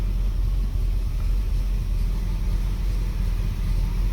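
A custom 1958 Chevy engine idles in a steady, low rumbling drone, close and continuous without revving.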